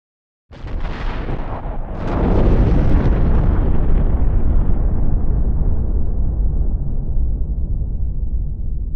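A huge explosion effect stands for the Big Bang: a sudden blast that swells into a deep, roaring rumble and slowly fades, loud and sustained with no voices.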